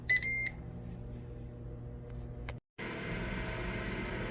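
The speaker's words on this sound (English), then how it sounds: "when it gets to temp, it will beep and it will say add food" An oven appliance beeps a few quick times as it reaches 400 degrees, a short bright cluster at the start over a steady fan hum that drops out briefly and then returns louder.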